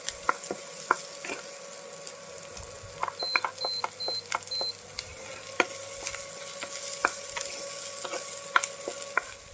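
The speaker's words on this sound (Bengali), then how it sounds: "এই তেলের মধ্যে আমি দিয়ে দেবো পেঁয়াজ কুচি কুচিটাকে ভালো করে নাড়াচাড়া করে নেব" Chopped onion stirred and fried in oil for a potato and parwal curry with small shrimp, making a low steady sizzle punctuated by sharp spatula clicks against the pan and a brief electronic beeping partway through.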